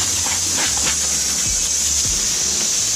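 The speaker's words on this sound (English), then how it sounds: "Yeah, so we're just spraying everything down." Steady, loud hiss of a pressure sprayer washing down a car's underside and body, continuous throughout, with a low droning hum underneath and occasional soft thumps.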